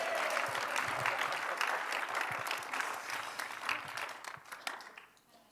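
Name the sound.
church congregation applauding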